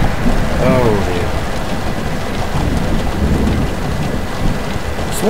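A game thunderstorm in which lightning strikes a small craft: steady heavy rain and low rumbling thunder fill the whole stretch, with a voice briefly heard over the storm near the start.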